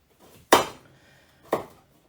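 Two firm knife chops through fresh coconut on a board, each a sharp close thud about a second apart with a short tail, and no voice over them.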